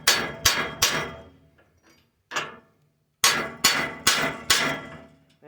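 Sharp metal strikes of a hammer on a punch and chisel against a New Holland model 56 rake part, loud and close: a quick burst of three blows, a lone hit, a pause, then four steady blows, each ringing briefly.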